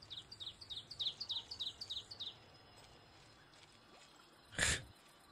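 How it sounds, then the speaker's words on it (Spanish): Bird chirping in the medieval adventure game Arthur's Knights, a quick series of about nine high tweets in a row, then a sharp louder bird call after a short pause. "Pájaro."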